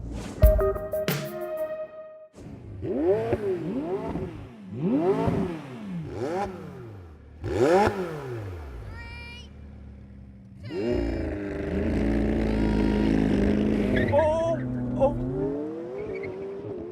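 McLaren 720S and 675LT sports cars launch side by side in a drag race on cold tyres, engines rising through loud repeated revving gear sweeps, then a sustained roaring pull, with voices talking over parts.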